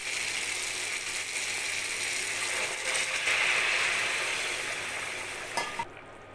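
Spiced vegetables (papaya, potato and pointed gourd) in a pan for a fish curry give a steady frying sizzle as hot water goes in. The hiss holds at a moderate level and ends with a brief clatter.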